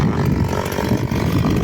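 A chainsaw cutting hard firewood for a São João bonfire, its engine loud and continuous with a rough buzzing drone that pulses slightly as it bites through the wood, close by.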